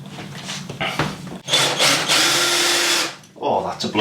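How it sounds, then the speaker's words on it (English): Power drill boring holes through timber while building a fitted wardrobe, short whirring bursts followed by a longer, louder sustained drilling run with a brief pause and another burst, close and clear. "I'm just going to drill 4 holes through the timber"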